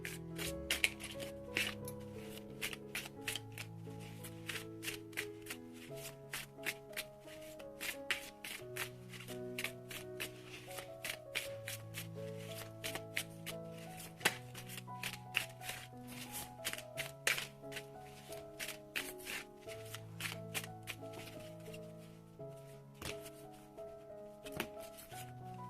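Oracle cards shuffled continuously by hand, giving a steady patter of soft taps and papery slides under quiet background music. Close and faint.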